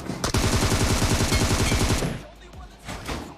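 A rapid burst of AK rifle fire in a video game, loud and close, rattling steadily for about two seconds before cutting off, followed by faint scattered game sounds.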